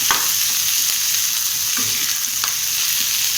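Garlic cloves and red chillies sautéing in a pan for Tamil kara chutney, a steady broadband sizzle with a few light spatula scrapes and stirs breaking through, close and fairly loud throughout.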